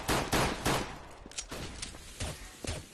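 Gunfire in a Counter-Strike professional league match, several sharp bursts of rapid shots in quick succession, fairly loud and close, with short gaps between volleys.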